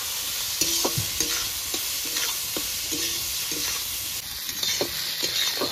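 Chopped onion and chilli frying with turmeric in a pan, a loud continuous sizzle with rhythmic scraping and stirring strokes repeating throughout.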